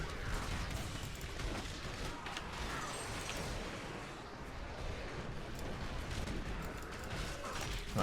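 Explosions rumble and crackle in Diablo 3 Reaper of Souls, hardcore Crusader gameplay, forming a dense, continuous barrage of fiery blasts at fairly low volume.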